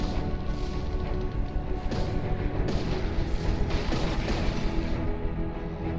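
A missile barrage in the naval combat game From the Depths, a continuous dense roar of overlapping explosions and rushing blasts with occasional sharper bursts, loud and unbroken throughout.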